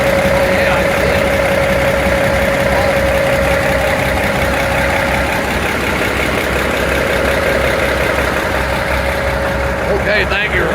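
A GE 65-ton center cab locomotive engine runs at a steady idle close by, a continuous loud rumbling drone with a faint tonal whine, while people talk over it.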